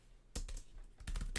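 Quick keystrokes on a Foldable Keyboard Pro, a few close, crisp taps in two short bursts.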